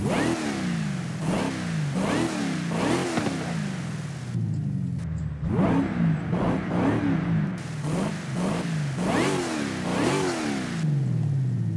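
An American car engine in the video game Forza Horizon 5 revs again and again, each rev a rising roar that drops back, loud and close, with a short lull midway.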